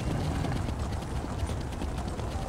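Horse hooves clopping in a steady, continuous stream while riding in The Elder Scrolls Online, fairly loud and dense across the whole stretch, with no voice over them.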